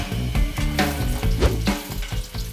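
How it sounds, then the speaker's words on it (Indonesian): Spices sautéing in a pan for Acehnese bubur kanji, a steady crackling sizzle with soft stirring scrapes at a close distance and no voices. "pertama kita harus tumis dulu rempah-rempahnya"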